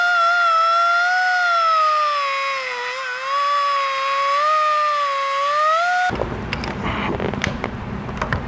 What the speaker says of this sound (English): take your cutoff wheel and make a nice straight line and just kind of go really slow at it